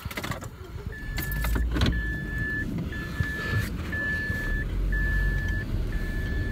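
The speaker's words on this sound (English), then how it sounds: "Let me move the car real quick." A car being moved, with its engine running low and steady while a regular electronic beep repeats about once a second, likely a reversing or warning chime, plus a brief jangle of keys near the start.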